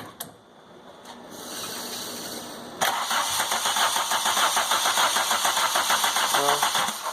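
A Volkswagen MK2 GTI engine converted to motorcycle carburetors cranks and catches. The starter whirs first, then the engine fires about three seconds in and settles into a steady, loud, pulsing run. No one speaks.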